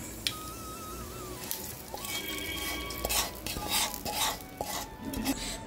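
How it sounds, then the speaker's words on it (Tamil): Brinjal chutney being stirred and mixed into cooked rice with a spoon, soft scraping and clinking of utensil against the vessel in a continuous, close, moderately quiet texture. "இதை நல்லா மிக்ஸ் பண்ணி விட்டுலாம்."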